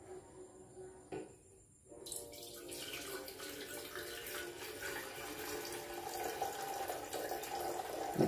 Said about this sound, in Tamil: முடிச்சு இப்போ தண்ணியை எடுத்து ஊற்றிடும்.